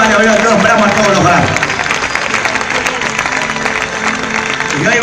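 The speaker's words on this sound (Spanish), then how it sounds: "Denle otro aplauso a ese gran hombre de Dios" A church congregation claps and cheers in a loud, busy burst, with voices and music mixed into the applause throughout.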